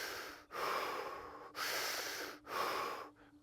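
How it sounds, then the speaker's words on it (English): Slow, deliberate deep breathing as a breath-work exercise, three long airy breaths in a steady rhythm with brief pauses between, close and clear with no talking. "Conscious, deep breaths."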